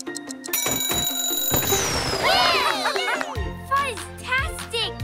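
Cartoon timer alarm goes off in a children's animated show, a bright ringing with warbling, bell-like electronic tones over music and effects, loud and close throughout.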